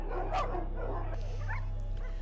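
Dogs packed in trucks at a slaughterhouse bark and whimper, with yips breaking through over a steady low engine drone.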